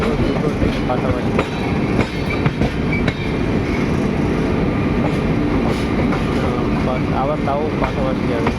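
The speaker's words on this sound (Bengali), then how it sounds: "আমরা আছি শালিমার এক্সপ্রেসে, আর ওটা হচ্ছে হাওড়া এক্সপ্রেস।" Shalimar Express passenger train running on its tracks alongside the Howrah Express, heard from on board as a loud, continuous rolling rumble with scattered clacks and rattles throughout.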